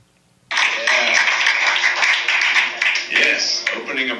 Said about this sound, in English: Applause. That is our favorite thing.